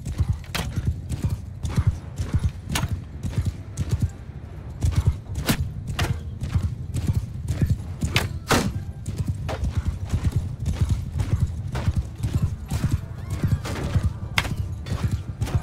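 Cavalry horses charge into battle in the video game Mount & Blade 2: Bannerlord, a dense, continuous thunder of hooves with repeated neighs and whinnies cutting through, loud and close, with no talk over it.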